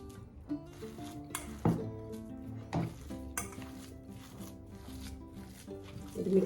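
Tuna cutlet mixture being stirred by hand in a bowl, giving soft wet squelching and scraping with a few sharper clinks against the bowl, close and moderately quiet with no talk.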